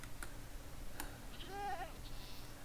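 A goat bleats in the Minecraft video game: one short wavering bleat in the middle, faint, over low background noise with a few soft clicks before it.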